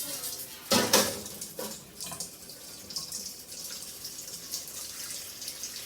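Cold water from a tap splashes steadily into a container while making caciocavallo cheese, with a few louder clattering knocks near the start.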